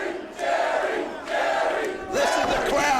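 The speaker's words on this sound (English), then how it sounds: "Listen to the crowd." A large wrestling arena crowd at a triple ladder match roars and chants in loud, sustained waves, swelling and dipping in three rhythmic surges with no talk over it.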